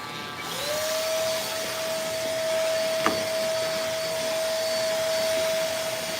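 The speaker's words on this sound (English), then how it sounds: "It's the Instinct Shaver." A steady electric buzzing hum of a shaver runs close and loud throughout, with a faint click partway through and no voices.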